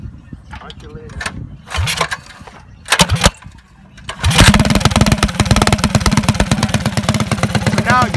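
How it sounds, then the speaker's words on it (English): Mini bike engine with choke set, a few pull-start attempts and sputters before it fires and settles into a loud, buzzing, rapid-firing idle up close, with people talking over it. "So we're finna start the bike up."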